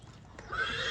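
Horses at a Pakistani horse sale whinny loudly and close by, the neigh rising over a steady bed of stable and crowd noise, with faint hoof clopping underneath.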